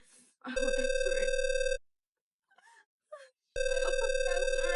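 Telephone bell ringing in two long, loud electronic trills separated by a pause, each a steady buzzing tone with overtones; a voice speaks briefly during the gap.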